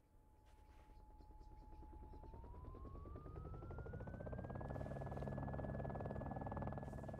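A helicopter flies nearby, a steady thudding rotor drone growing gradually louder with a rising whine, with no voices over it.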